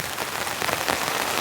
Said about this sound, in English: the rain has set in